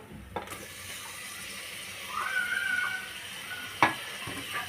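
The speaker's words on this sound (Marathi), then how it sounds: "टमॅटो टाकून हलवायचे" Tomatoes are stirred into a frying masala with mint and coriander for chicken biryani, giving a moderate sizzle and stirring with a brief clink and a sharp scrape near the end.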